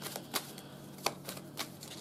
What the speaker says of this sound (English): as I was shuffling this with my eyes closed